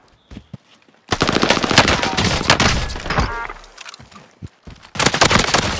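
Automatic gunfire rattles through a Call of Duty: Warzone match: a few sparse shots, then long, loud, rapid bursts of machine-gun fire that pause briefly and then erupt again near the end.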